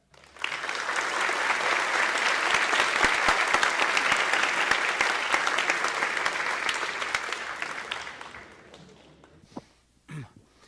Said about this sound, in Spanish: Quisiera pedirle un fuerte aplauso para recibir a Richard Stallman.